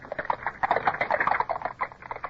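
Hooves of a team of three horses clip-clop in a steady trotting rhythm as a horse-drawn coach moves off, fairly close and clear with no voices over it.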